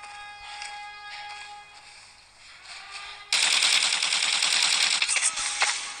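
Video game gunfire, a steady automatic burst of rapid close shots that cuts in suddenly and keeps going over a quieter background of game sounds.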